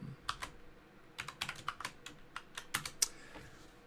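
Keys clacking on a computer keyboard as code is typed, a quick uneven run of light taps with short pauses, close and fairly quiet, with no voices.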